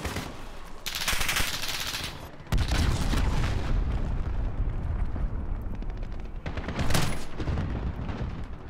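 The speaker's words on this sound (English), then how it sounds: "Allied cruise missile away." An allied cruise missile strike in Call of Duty: Modern Warfare multiplayer, heard as loud, roaring blasts and rumbling explosions in waves, with a brief lull before a heavy second impact and a later surge.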